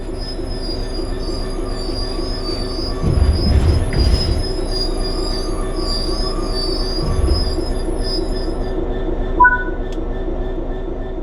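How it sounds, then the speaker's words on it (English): A train in Train Sim World 3 rolls under steady braking, with a continuous high metallic wheel squeal over a rumbling, rattling carriage drone and a few clunks, heard from inside the cab. "Bring this train to a complete stop by holding the brake control in the apply state"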